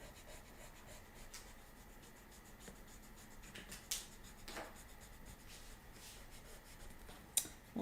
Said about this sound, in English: You can erase these lines.